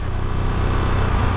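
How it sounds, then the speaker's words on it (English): A loud, steady Ducati Panigale V2 induction growl, not exhaust noise, drones throughout, deep and throbbing with no pauses. "what you're hearing is not exhaust noise, you're hearing induction growl"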